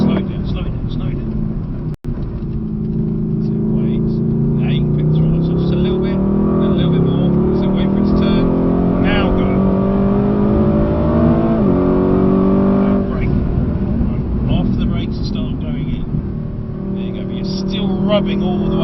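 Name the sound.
Mercedes AMG GT accelerating on a handling track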